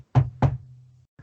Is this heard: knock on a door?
yes